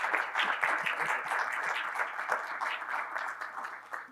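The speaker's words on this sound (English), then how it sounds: "So let's give our speakers a round of applause for 4 awesome talks." A conference audience at a medical device design event applauds its speakers, a steady patter of many claps in a hall, fairly even and moderately loud, with distinct individual hand strikes scattered through the sound.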